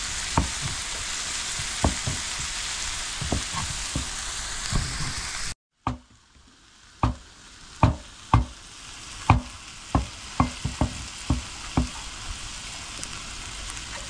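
Onions and chili stir-frying in a pan: a steady loud sizzle gives way after a brief cut to a quieter hiss, with a spatula scraping and clacking against the pan in a regular rhythm, and no talking.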